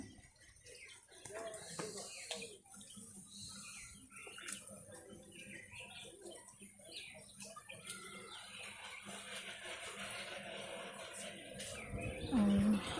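Birds chirp and coo around a chicken feed tray scattered with greens on a hot day, with repeated small calls over a busy outdoor background and a voice talking.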